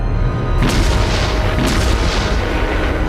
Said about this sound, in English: the Germans wheeled out the K5 to shell the embattled Allied beachhead.